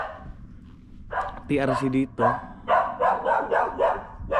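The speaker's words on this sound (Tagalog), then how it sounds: "pasensya na kayo sa aso ha" A dog barks repeatedly in sharp, close bursts during a home conversation, several loud yaps in quick succession while a person keeps talking underneath.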